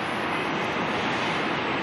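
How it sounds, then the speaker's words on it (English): Roosevelt Island Tram cable car travelling along its cables over morning traffic, a loud, steady broadband rush and rumble that holds constant throughout. "that's the Roosevelt Island Tram chugging up the cables there"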